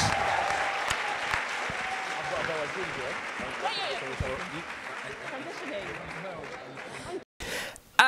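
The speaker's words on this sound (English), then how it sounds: "give Sal a round of applause" A room full of people at a science presentation event claps steadily for several seconds, with scattered voices and cheers mixed in, before the applause cuts off near the end.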